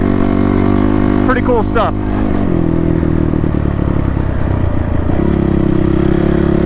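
Honda CRF 450 motorcycle engine fitted with a Yoshimura exhaust, running loud and close with a rough, steady drone that shifts pitch slightly midway, while someone talks briefly over it.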